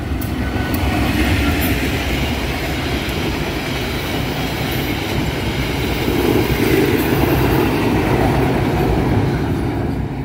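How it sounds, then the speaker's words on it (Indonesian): A local commuter train rumbles past close by, steady heavy rolling noise with faint rhythmic wheel clatter, continuing for the whole stretch. "ini adalah kereta api lokal Garut Cibatuan"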